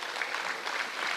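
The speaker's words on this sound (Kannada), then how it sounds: "ಒಂದು ಜೋರು ಚಪ್ಪಾಳೆ ಹೊಡಿಬೇಕು" An audience claps loudly and steadily throughout a brief burst of applause at a college graduation ceremony marking a silver jubilee.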